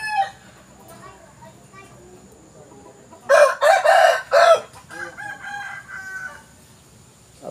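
A Boston Roundhead rooster crows once loudly and close, a strident multi-part call lasting about a second and a half, with quieter clucking and faint talk from a man before and after.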